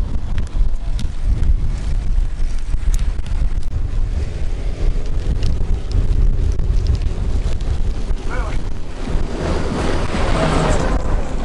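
Strong wind carrying sand buffets the microphone with a constant, loud rumbling roar, gusting throughout with no voices heard, on the Arabat Spit coast.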